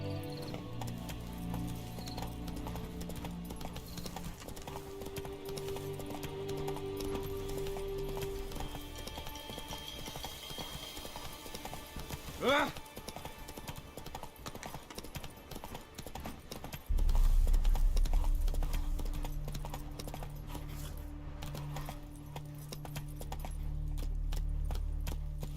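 Hooves of Roach, the horse in the video game Witcher 3, clip-clopping steadily at a gallop through a game soundscape, joined by a brief whoosh midway and a louder low rumble near the end.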